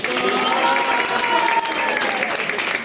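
An audience at a children's play claps steadily and continuously, a dense wash of applause from a crowd, with no pauses.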